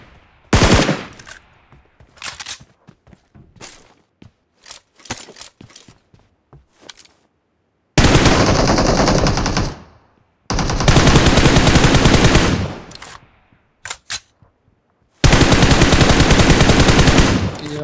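PUBG Mobile gunfire comes in loud, sustained automatic bursts, some lasting a couple of seconds, mixed with scattered single shots and short gaps.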